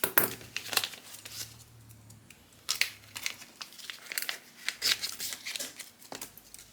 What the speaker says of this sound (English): And do they cut my really cheap, thin toilet tissue?